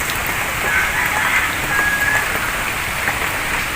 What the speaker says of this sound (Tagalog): maririnig nyo yung lakas ng hangin, yung ulan, at syempre yung mga palaka